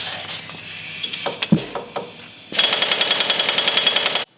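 An impact wrench removes the track bar bolt where the bar meets the axle. A few metallic clicks and knocks come first, then a loud, rapid, continuous hammering rattle that runs for nearly two seconds and stops abruptly.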